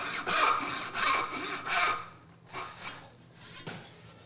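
A hand saw cuts wood for dovetail joints in several rhythmic back-and-forth strokes, close and crisp. The first strokes are strong, and softer strokes follow as the cut finishes.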